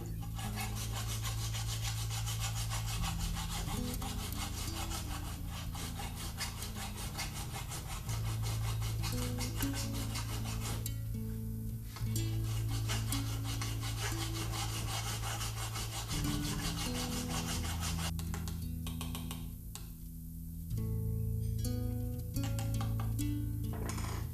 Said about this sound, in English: There's still some varnish on it. I remove that with a file.